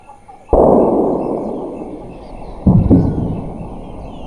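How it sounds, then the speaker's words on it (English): Two loud gunshots sound in an otherwise quiet rainforest, each a sharp crack followed by a long rolling echo that fades slowly. "The sound of gunfire."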